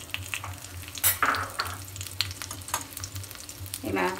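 Banana pieces sizzle and fry steadily in hot oil with cumin seeds in a pan over medium heat, the crackling constant and close with brief stirring clatters and no talk.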